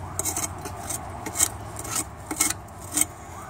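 A screwdriver scrapes crusty deposits off the wick of a Perfection kerosene heater, making close, gritty rasping strokes in a loose rhythm with a few sharper scratches.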